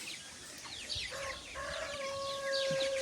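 Hens clucking softly with thin chick peeps, a steady low chorus of poultry at moderate distance.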